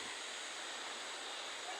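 Strong, fast-flowing water rushes steadily through a forest, a loud, continuous broadband roar that holds even for the whole moment with no breaks.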